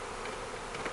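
Honey bees buzzing densely as they are shaken into a queen package during queen production, a continuous close, loud drone with no pauses.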